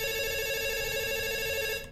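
In the Five Nights at Freddy's video game, a telephone rings as a steady, continuous electronic tone. It plays alone at moderate volume for about two seconds, then cuts off.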